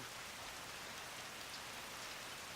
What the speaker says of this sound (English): It was raining that day as well.